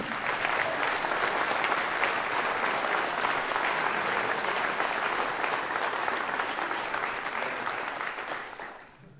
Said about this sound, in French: Je vous demande d'applaudir Daniel Pigeon-Angelini